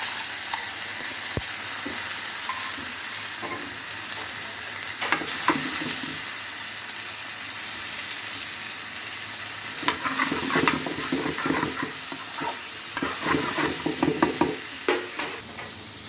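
Marinated chicken sizzles and frys in a pan with ginger, garlic, celery and coriander for a brown stew, with steady frying hiss and clusters of stirring scrapes and clatters, no talk.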